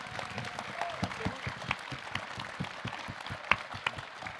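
A convention conference audience applauds cult French voice actors with scattered, uneven claps and a few sharper slaps, moderately close, under a faint crowd murmur.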